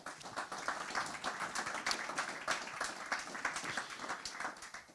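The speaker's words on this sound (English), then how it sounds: "Please give them a round of applause" A conference audience applauds a panel from the Conservative Environment Network, a steady, dense patter of many hands clapping at even loudness throughout, with no voices over it.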